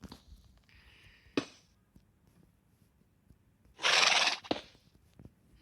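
A horse in a survival video game lets out a short whinny, heard alongside a few faint clicks and a sharp knock in an otherwise quiet scene.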